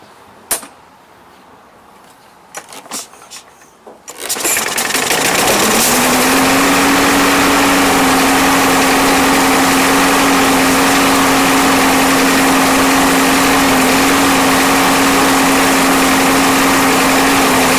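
A primed lawn mower engine starts after a few faint knocks and clicks, then runs loud and steady at a high, even pitch for the rest of the clip, close by and with no talk.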